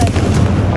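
A Confringo blasting spell goes off in the Hogwarts Legacy video game, a dense booming burst with a low rumbling body that carries through the whole short moment without any talk.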